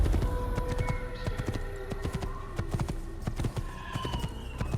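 Hooves clip-clop steadily from a horse ridden in Assassin's Creed, a rapid repeated clatter mixed with game ambience and an occasional faint whinny.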